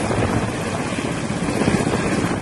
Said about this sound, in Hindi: इन दिनों वायुसेना का ये हेलीकॉप्टर चिनूक और MI-17 कुछ इसी तरह से केदार घाटी में मददगार बने हुए हैं।